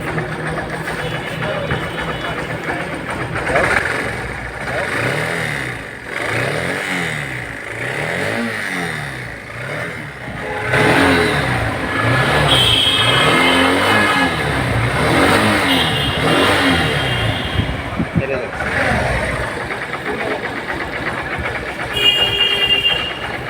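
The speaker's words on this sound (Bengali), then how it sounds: "এখন বাইকটা আমরা স্টার্ট করব স্টার্ট করে দেখব কি অবস্থা আপনারাও সাউন্ডটা শুনুন" Honda X-Blade motorcycle engine starting up and revving in a workshop after repair, with rising and falling rev sweeps, loud and close, and a steady idle between.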